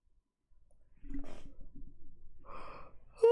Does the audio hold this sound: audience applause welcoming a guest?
no